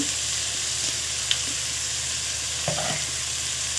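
Dried prawns fry in oil in a pan for a cauliflower curry, giving a steady, fairly quiet sizzle throughout with a couple of brief clinks of a spoon.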